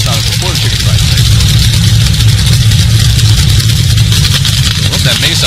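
Top Alcohol Dragster engine at a drag race, running roughly with a loud, deep, uneven rumble and crackle, close and steady throughout.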